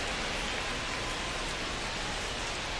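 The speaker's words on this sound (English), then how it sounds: "the field's not going to be able to hold up if the rain gets any worse than this" Steady rain pouring down on a baseball field, a dense, even hiss of falling water that stays constant and fairly loud with no breaks.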